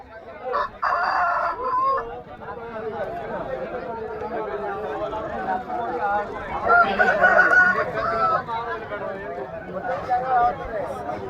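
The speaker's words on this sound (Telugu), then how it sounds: "అన్నీ మంచి మంచి కోళ్ళు వచ్చినాయి" Several fighting roosters at a cockfight ground crow and cluck, some calls near and others farther off, mixed with steady crowd chatter throughout.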